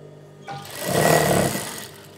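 Sewing machine running a short seam on the lining of a semi-Patiala pant: the rapid mechanical stitching chatter swells for about a second, then slows and stops, with no talk.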